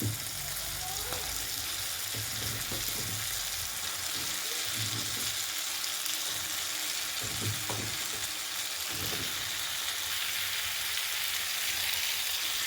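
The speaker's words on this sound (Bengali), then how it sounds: "এটা থেকে তেল ছাড়তে শুরু করেছে এই পর্যায়ে কিন্তু আমি ওল আর আলুটা দিয়ে দেবো" Elephant foot yam and potato pieces frying in oil as a prawn curry cooks, a continuous sizzle with scattered scrapes and stirring knocks running through it, with nobody speaking.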